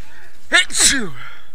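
One sharp, loud sneeze up close, a quick inhaled build-up bursting into a hissy explosive release, then fading into a brief voiced trail.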